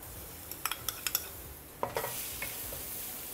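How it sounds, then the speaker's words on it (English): Chopped garlic frying in oil in a pan, a soft low sizzle broken by a few sharp metallic clinks and scrapes of a utensil against the pan, quiet and close. "Add in 2 chopped garlic,"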